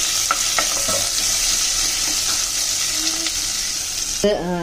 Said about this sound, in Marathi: 1 मोठा कांदा मी कापून घेतलेला आहे, तो आपण घालूया याच्यात. कांदा भाजून घेते चांगला आधी.